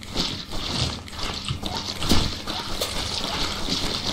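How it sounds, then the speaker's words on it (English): Water thrown and splashing across a blood-covered spaceship floor in the cleanup game Viscera Cleanup Detail, uneven sloshing bursts and trickles repeating over a few seconds, with no speech. "Let's throw more water on it."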